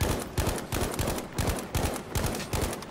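Rapid bursts of gunfire from a Battlefield 5 Breakthrough match, loud and repeated in a steady stutter of shots with no pauses, dense battlefield noise underneath.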